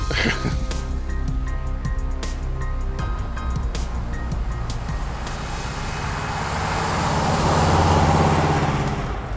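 A Lincoln Cosmo fitted with Stromberg carburetors drives down the road, its engine rumbling low and steady and swelling louder toward the end, while people talk over it.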